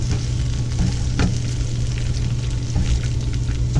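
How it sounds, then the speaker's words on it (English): Vegetables and chorizo sausage sauteing on a Power Smokeless Grill XL, a loud continuous sizzle with a low steady hum underneath and occasional spatula clicks. "Start off sauteing the vegetables, almost a minute, and then go ahead and add the sausage and finish it up."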